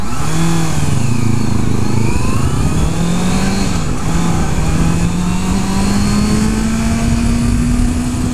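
A 2014 Honda CBR650F with an inline-four engine accelerates through the gears, its loud, steady engine note climbing in pitch with brief dips at shifts, close and continuous with wind noise.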